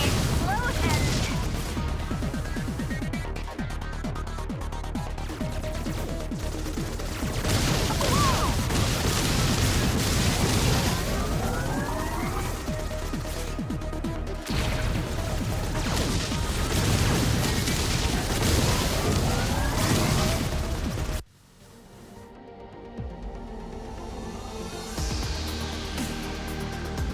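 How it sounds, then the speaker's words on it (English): Explosions rumble and crash in the video game Subverse, a dense, loud barrage of booms and blasts lasting over twenty seconds before cutting to a quieter, lingering tail. "Pretty explosions."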